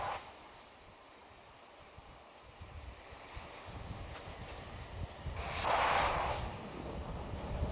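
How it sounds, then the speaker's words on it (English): A rocket on the pad venting chilled gas from above its liquid oxygen tank: a broad rushing hiss that swells to a louder burst near the end, heard from a distance over windy outdoor noise. "That periodic venting sound you hear is normal."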